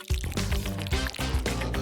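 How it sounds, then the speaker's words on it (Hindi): Aloe vera gel from a freshly opened leaf slides into a blender in wet, gloopy pours and squelches, with a steady background hum close by. "इसमें से जितना भी जेल होगा वो सारा ब्लेंडर में चला जाएगा"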